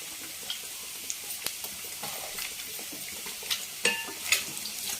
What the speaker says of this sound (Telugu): మెల్లిగా మీద పడకుండా మెల్లిగా కలుపుకొని చిన్న ముక్కలు చేసుకుంటే బాగుంటుంది